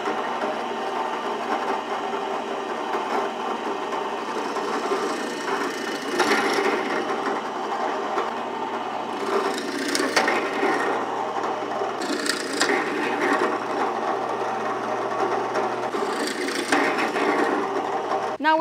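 A drill bores a straight hole through wood with a guide during van interior framing, a steady grinding whir that runs unbroken and close for the whole stretch, with no voices.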